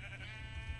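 Sheep bleating on a blocky Minecraft-style community wool farm, a short nasal bleat repeated close by over a steady low hum, with no talking.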